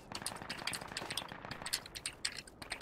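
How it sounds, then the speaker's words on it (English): Rapid bursts of enemy machine gun fire in a military video game, dense rattling volleys repeating across the whole stretch, moderately close with battlefield noise behind. "It's enemy MG engaging us."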